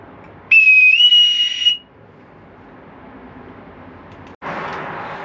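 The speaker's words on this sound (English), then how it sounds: "Must have bosun whistle." A bosun whistle is blown on an offshore boat, one shrill high tone lasting just over a second that bends upward partway through, followed by quiet hiss and a burst of broadband noise.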